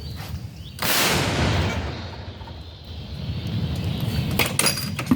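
A single heavy artillery gun blast booms close by, followed by a long rumbling roar that lingers and fades into outdoor noise with faint clicks.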